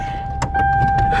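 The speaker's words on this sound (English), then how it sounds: "so it starts and it idles" Car engine running on cooking oil instead of engine oil, a steady idle hum with a high whine, broken by a few short rattling clicks, close and continuous over a brief moment.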